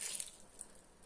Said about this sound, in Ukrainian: додаю пів шклянки води додала.